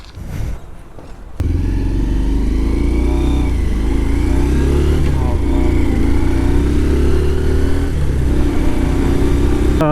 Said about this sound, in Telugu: ఒకసారి షార్ట్ స్పిన్ వేసి నా రైడ్ ఒపీనియన్ చెప్తా ఈ బైక్కి